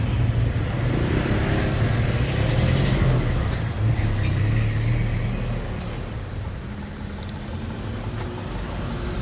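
Steady road traffic rolls past on the San Juanico Bridge at night, a continuous low engine and tyre rumble that is loud at first and eases slightly as vehicles move on, with no talk over it.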